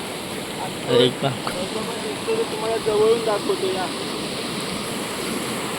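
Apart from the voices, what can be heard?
mountain streams flowing down the hill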